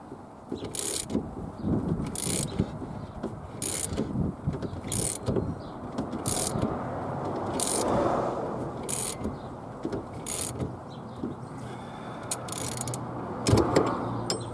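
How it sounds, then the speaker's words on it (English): Wheel studs being cranked back into a Triumph Spitfire hub with a wheel brace, producing a steady series of close, regularly spaced ratcheting clicks over a low background rumble. "when you're cranking these studs back in, use your original wheel brace to give you something to lean on"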